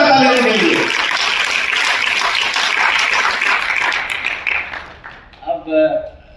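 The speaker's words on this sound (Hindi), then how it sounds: "इसलिए जोरदार ताली के लिए" Loud applause from the audience at a kavi sammelan poetry gathering, a dense wash of clapping that swells and fades over several seconds, with a voice speaking briefly at the end.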